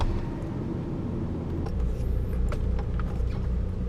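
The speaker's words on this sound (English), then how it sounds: "Let's go test drive." A Nissan Titan pickup truck on a test drive after an evap canister replacement, with a steady low engine and road rumble heard from inside the cab, droning evenly throughout.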